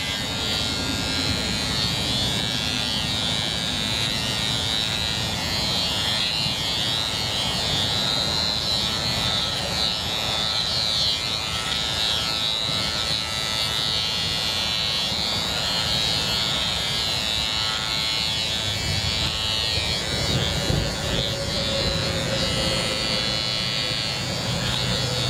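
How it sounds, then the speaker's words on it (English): A oneisall cordless dog grooming trimmer runs at its highest power setting, giving a steady, close electric buzz that holds without pause throughout, with faint shifts in tone as it cuts through fur. "I've turned it all the way on the highest power"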